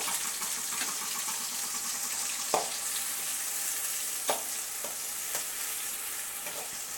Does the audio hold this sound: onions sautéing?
yes